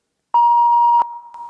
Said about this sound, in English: The machine beeps as it goes to the next message.